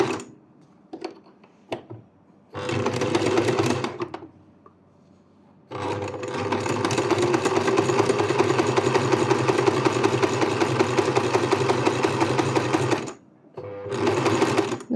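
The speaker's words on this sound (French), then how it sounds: "Vous pouvez aussi coudre à la machine pour que la couture soit plus solide." A domestic sewing machine stitches a fabric scrunchie in close, loud runs: a short burst, a long steady whirring stretch with even needle clatter, then another brief run, separated by quiet pauses and a few light clicks.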